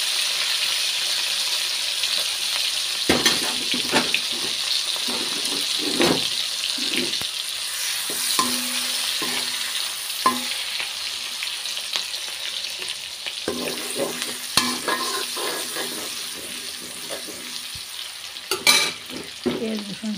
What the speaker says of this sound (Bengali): এখন আমি পেঁয়াজ দিয়ে দিব। পেঁয়াজ দিয়ে দিলাম। একটু নেড়ে চেড়ে অন্যান্য মশলাগুলো দিয়ে দিব।